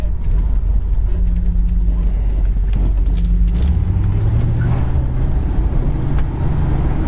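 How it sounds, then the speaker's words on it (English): A 1972 Ford LTD convertible with a 351 Cleveland V8 and FMX transmission drives along with a steady, smooth engine drone and road rumble, shifting up partway through as the pitch drops and rises again. "That 351 Cleveland runs super smooth."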